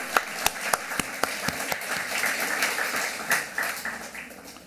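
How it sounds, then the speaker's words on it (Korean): Applause from a Korean-language church congregation in Osaka after a hymn, opening with several distinct, rhythmic claps that blend into a steadier ripple of clapping from a modest group. "우리 하나님께 감사의 박수 올려드리겠습니다."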